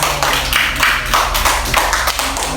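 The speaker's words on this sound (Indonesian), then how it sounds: "tepuk tangan untuk Ilmi" A classroom of students applauds a classmate, a dense run of hand claps with uneven bursts filling the whole stretch, loud and close, with faint voices underneath.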